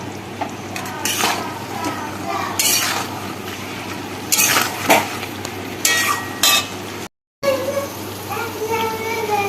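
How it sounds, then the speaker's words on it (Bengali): Meat being stirred and braised in a pan with ground coriander, cumin and garam masala gives a soft sizzle and intermittent scraping clatters under nearby talking, then a brief dropout near the end. "তো মাংস আমাদের কষতে শুরু করেছে"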